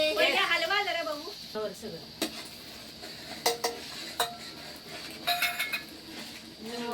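A ladle clinks and scrapes around a metal pot of misal, giving several sharp taps and stirring scrapes in irregular bursts while voices speak nearby.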